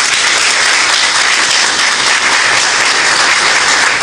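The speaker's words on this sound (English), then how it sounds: "Let's give her a round of applause." An audience at a political event in Ghana applauds loudly and steadily, a dense sustained wash of clapping from many hands with no pauses.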